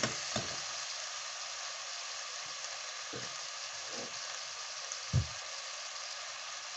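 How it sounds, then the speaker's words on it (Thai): Pork stir-frying with coriander root, salt and pepper gives a steady broadband sizzle, with a few soft utensil scrapes and knocks spaced through it and one firmer clack near the end. "เพื่อนๆผัดให้เหลืองก่อนนะคะ"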